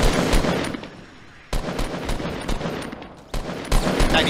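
Rapid bursts of gunfire in the battle royale game Fortnite, loud and close, in several clusters separated by short lulls.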